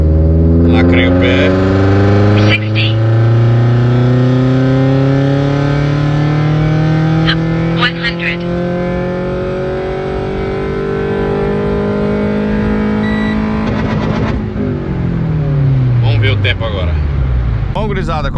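A Renault Sandero RS, fitted with nitro, accelerates hard in fourth gear from about 80 to 140 km/h. The engine note climbs loud and continuous, with one gear-change dip near the end, close inside the cabin and with no talk.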